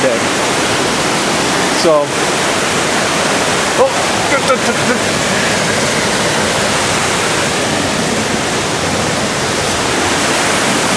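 A small waterfall in Yabakei, Japan that people slide down, a loud, constant broadband rush of falling water close by, with a brief voice and a few faint knocks early on.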